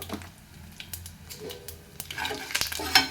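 Turmeric and asafoetida sizzling in hot oil as a tempering for a bottle gourd and spinach curry, with stirring and light scraping in the pan, steady and close.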